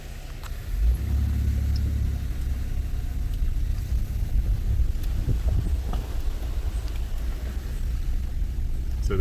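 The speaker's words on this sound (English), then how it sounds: "It's kind of moist, so the vehicle gonna slip a little, but it's gonna make it." A vehicle climbs a moist, stony riverside slope up toward a dam, its steady engine rumble continuous and close, with crunching and knocking from wheels over loose stones.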